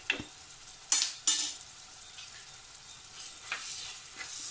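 Chili, turmeric and coriander powders frying in hot oil over a low gas flame, a soft steady sizzle with a few sharp stirring scrapes and clinks near the start and scattered later, no voices.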